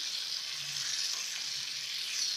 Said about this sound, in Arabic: ثوم ياخد غلوة مع الخل